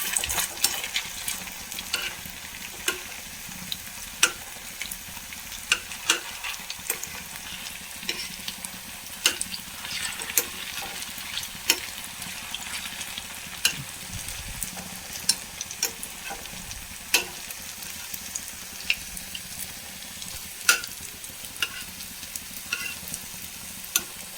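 Potato pakoda frying in hot oil, a constant bubbling sizzle punctuated by many sharp clicks and taps as the fritters are turned over with a utensil in the pan, close and steady with no speech.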